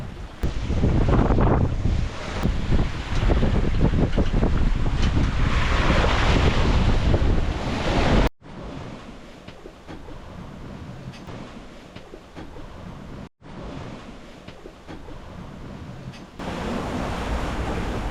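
Strong wind of 18-20 knots buffets the microphone over the rush of waves on the open Atlantic, loud and continuous, with the roar easing after a few sharp cuts.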